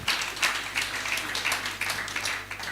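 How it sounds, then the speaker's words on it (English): Audience applause at an insurance brokers' members' evening: steady, dense clapping from a moderate-sized crowd, sustained and fairly even throughout, with no speech over it. "we should give a resounding applause to the leadership"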